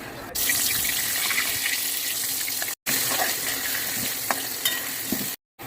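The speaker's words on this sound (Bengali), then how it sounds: "তারপরে কড়াইয়ের মধ্যে একটু হলুদ দিয়ে আলুগুলো ছেড়ে দেবো।" Potatoes sizzle and spit in hot oil with turmeric in a wok, a loud continuous frying hiss with occasional stirring scrapes, cut by two brief silent gaps, with no voices.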